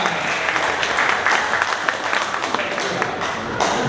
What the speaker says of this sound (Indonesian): berikan aplaus buat Bapak Ibu semua